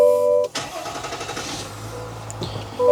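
A custom Chevrolet ZR2 pickup truck cranks briefly and starts up, settling into a steady mid-pitched idle after a sharp initial catch, heard up close and fairly loud, with chimes from the cabin at the start and end.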